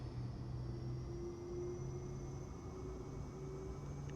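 A Cirrus Vision Jet in a flight simulator game rolls for takeoff on runway 28, giving a steady, faint engine hum and whine with broadband rushing noise, alone and with no talk.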